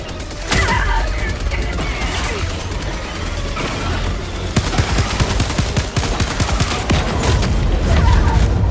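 Sustained automatic turret gunfire in the Helldivers video game, a dense rapid fusillade with repeated sharp bursts running throughout at steady loudness, with occasional crashes layered over the continuous shooting.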